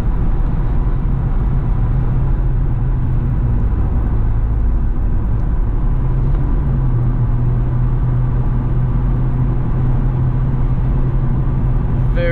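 A C5 Corvette with 80,000 miles and stock suspension driving on a bumpy road, giving a loud, steady engine drone and road rumble from inside the car without a break.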